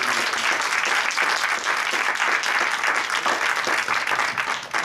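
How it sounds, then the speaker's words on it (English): Audience applause for a documentary project team, a dense, steady wash of many hands clapping for about five seconds, fading slightly at the end with no talk over it. "So if you can give them a round of applause."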